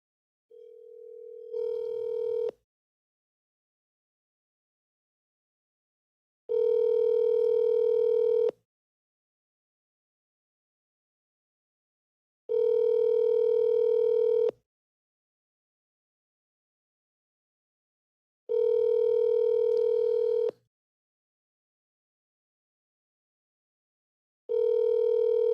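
An outgoing telephone call rings back on the line, a steady two-second tone repeating about every six seconds, five times in a row, clear and alone with silence between rings.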